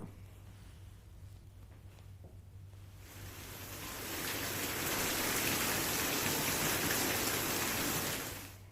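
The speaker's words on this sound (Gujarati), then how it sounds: "મુન્દ્રાના વવાર વિસ્તારમાં વરસાદી ઝાપટા પડ્યા છે" A rain shower in Mundra, Kutch: soft background hiss that swells into a steady, dense patter of rainfall after a few seconds.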